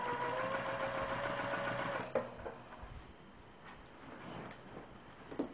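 A domestic sewing machine stitching down quilt binding runs in a steady, even whir for about two seconds, then stops, leaving quiet handling noises.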